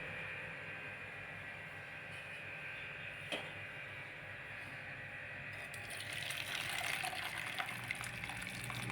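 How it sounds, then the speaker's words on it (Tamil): Boiled drumstick leaf soup, reduced by about a tumbler of water, being poured off and strained, a steady close wash of liquid that grows louder and brighter toward the end. "கொதிக்க விட்டுட்டு அதை இப்போ வடிச்சுக்கலாம்."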